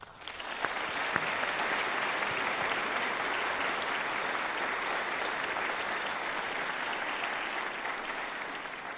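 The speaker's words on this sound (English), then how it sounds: "But let's please give another round of applause." A graduation ceremony audience gives the faculty sustained, dense applause, with a steady wash of clapping that stays loud and even throughout and no speech.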